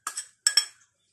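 A utensil mixes flour into batter in a bowl, giving three quick bright clinks against the bowl in close succession, close and otherwise quiet.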